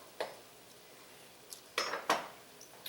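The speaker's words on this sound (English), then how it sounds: "let me stir this up" A spoon scrapes and clinks against a pot of chicken curry with onions. A few separate, moderately close metallic knocks and scrapes are spaced out over a quiet background.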